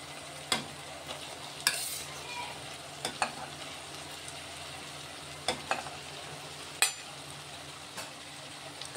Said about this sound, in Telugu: ఇప్పుడు ఇందులో అయితే ఉడికించిన కాలీఫ్లవర్ వేసుకుందాం.